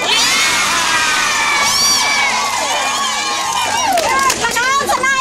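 A crowd of supporters at a political event with the mayor cheers and shouts excitedly, a loud, dense mix of voices and whoops with children's shrieks rising throughout.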